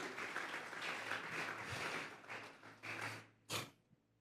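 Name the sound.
church congregation applauding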